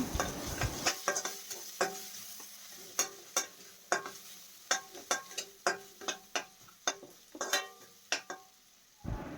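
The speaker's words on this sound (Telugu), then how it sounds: "1/2 టీ స్పూన్ కారం వేసుకొని మంచిగా ఫ్రై చేసుకోవాలి" Ginger garlic paste fried with chili powder in a pan, stirred with a spoon: about a dozen sharp, evenly spaced taps and scrapes against the pan over a soft sizzle, close and alone without speech.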